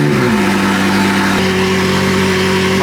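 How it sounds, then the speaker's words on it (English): McLaren with custom fabricated triple exit exhaust and straight down pipes, revving loudly up close then settling into a steady, droning idle, with no one talking. "Custom fabricated, triple exit exhaust and straight down pipes. Very, very loud."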